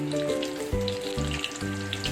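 Battered prawns sizzle in hot oil in a pan, three or four at a time, with a steady crackle and bursts of hissing as they are added.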